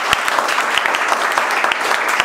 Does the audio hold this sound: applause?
yes